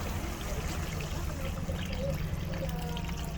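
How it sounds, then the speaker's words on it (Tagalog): Water poured into pork menudo cooking in a pot, heard as a steady close trickle over a low, constant rumble of background noise. "Tapos maglalagay po tayong tubig"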